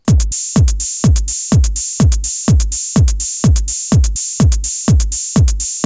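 A steady electronic drum loop: deep kicks alternating with short, crisp 808 open hi-hat hits with some reverb, in an even, repeating rhythm.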